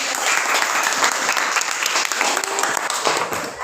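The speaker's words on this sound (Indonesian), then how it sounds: "kita berikan aplaus untuk" A classroom audience claps for the first group after their chemistry conclusion, a steady burst of applause lasting a few seconds with no talk over it.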